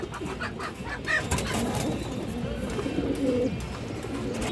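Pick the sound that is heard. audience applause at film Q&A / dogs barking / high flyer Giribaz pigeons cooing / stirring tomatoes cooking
high flyer Giribaz pigeons cooing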